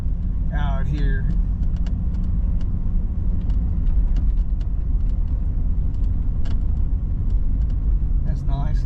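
A car drives along a suburban road on a stretch of the old White Cliffs Wagon Road, its engine and tyre rumble steady and close throughout, with someone talking over it.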